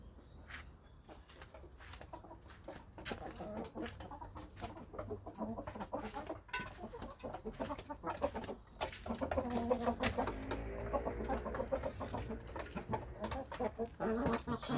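Backyard chickens feeding on lettuce cluck and murmur in short, scattered bursts close by, with occasional louder calls breaking through the soft pecking activity.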